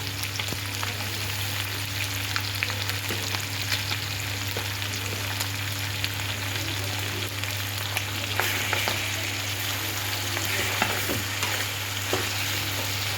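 Ginger garlic paste frying in a pan for chicken sukka, a steady close sizzle with occasional stirring scrapes running unbroken throughout, no voices.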